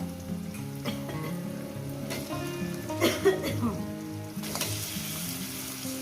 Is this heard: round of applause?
no